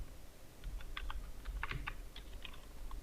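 Typing on a computer keyboard while working in Adobe Illustrator, a quick run of close, light key clicks over a low background hum, no speech.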